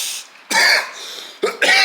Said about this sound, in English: here comes the coughing